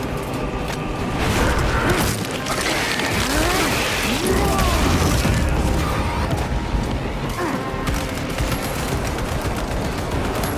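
Mechanical clicks and clatter of a weapon reload in Warhammer 40,000: Space Marine 2, set within a dense, loud wash of continuous gunfire, bursts and booms across the battlefield.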